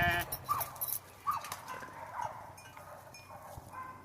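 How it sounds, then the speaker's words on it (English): Sheep on a ranch bleating a few times at a distance, short faint calls spaced across quiet outdoor background. "My sheep."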